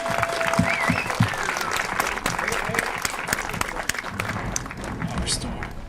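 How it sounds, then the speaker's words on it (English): Audience applause at the reopening of the historic San Elizario jail, a steady wash of clapping from a crowd that holds for the whole stretch, with chatter and a few voices mixed in. "So let's give them a round of applause"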